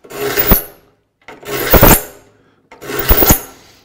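A hand file rasps across the front of a rip saw tooth, three separate strokes, each a close, harsh scraping burst with short pauses between.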